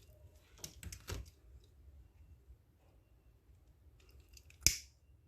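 Black paracord snipped with scissors while making a small bracelet: two or three quick crisp cuts early, then a single sharper snip near the end, close and fairly quiet.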